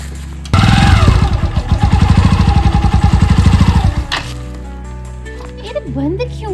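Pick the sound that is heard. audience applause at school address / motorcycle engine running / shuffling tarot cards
motorcycle engine running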